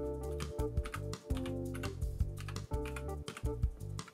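Typing on an inexpensive METOO mechanical keyboard with backlit keys, giving a steady run of close, crisp key clacks in uneven rhythm, with no voices.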